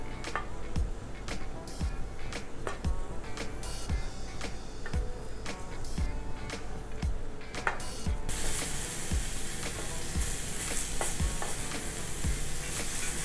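Five aubergine slices pan frying over medium heat, a dense continuous sizzle with regular ticking pops and light clicks, close and fairly loud, growing brighter and hissier toward the end.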